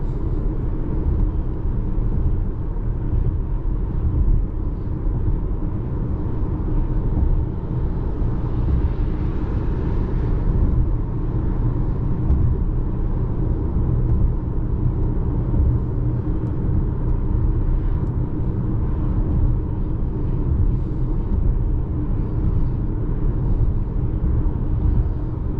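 A 2024 Volkswagen Tiguan S with front-wheel drive cruising on the road, heard from inside as a steady, loud low rumble of engine and road noise that holds constant for the whole stretch.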